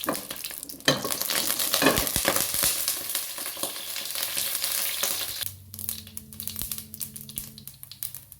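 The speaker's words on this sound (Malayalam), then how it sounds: "നമ്മൾ കാൽ സ്പൂണ് കടുക് ഇട്ട് കൊടുത്തിട്ടോ കടുക്" Mustard seeds crackle and splutter in hot oil in a pan while a yam-flower thoran is being made, a dense continuous sizzle with scattered sharp pops that thins out toward the end.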